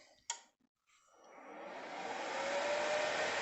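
Cooling fan of a Volta MMA 287 welding inverter starts after a click and spins up to a steady broadband whoosh, growing louder over the first couple of seconds and then holding constant, close and alone.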